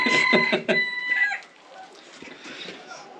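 Chickens on a village farm during blood testing give loud, close clucks and a crowing call at first, then fade to softer scattered clucking with faint rustling.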